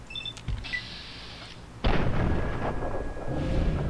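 A sniper-style long-range gunshot in the Fallout 3 video game, a sharp loud crack followed by a sustained rumbling echo, after a quieter metallic click earlier, no voices.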